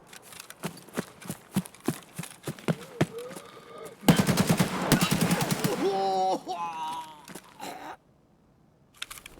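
Rapid bursts of automatic gunfire from the shooter game Escape From Tarkov, sharp repeated shots in quick rhythm, then a louder dense stretch of firing and clatter before cutting to near silence, with a lone shot at the end.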